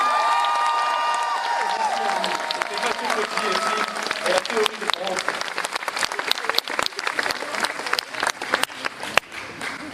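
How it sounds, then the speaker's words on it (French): A French talk show crowd breaks into applause and some cheering, building from under a brief spoken line into a dense, lively clatter of many hands that carries on to the end. "on peut les applaudir"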